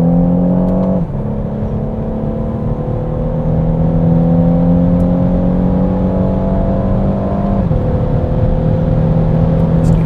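Renault Megane Estate 1.6 TCe EDC GT with its EDC dual-clutch gearbox accelerating steadily, engine note climbing then dropping sharply at two quick gear shifts, loud and close from inside the car with no talk.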